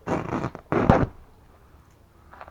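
Canvas being cut from a corner for a panel glue-up, two short close rasping strokes followed by quiet, with a faint scrape near the end.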